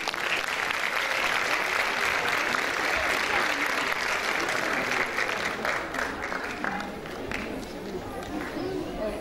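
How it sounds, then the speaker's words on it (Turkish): Applause from the audience at a Turkish folk music night, as a performer is invited on stage; dense continuous clapping fills the room, loud and steady, thinning a little toward the end. "Alkışlarınızla sahneye davet ediyoruz."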